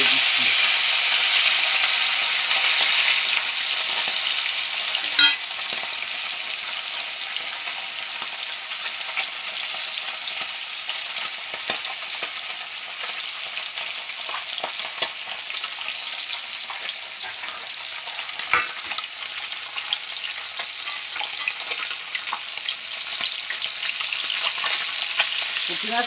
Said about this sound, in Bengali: পুঁটি মাছটাকে আমি এপিট ওপিট করে ভেজে নিচ্ছি।